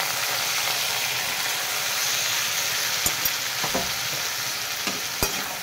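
Okra curry with ginger and dried red chilli paste sizzling loudly and steadily in a pan, with a few sharp spatula knocks against the side as it is stirred.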